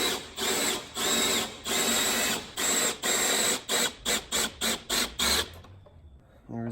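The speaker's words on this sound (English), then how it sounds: "Let's go ahead and get in here and drill this out." A power drill bores out a part on a salvage Mazda RX7 FD being rebuilt with an LS engine swap. It runs loud and close in long steady stretches, then short rapid bursts, before stopping into quiet.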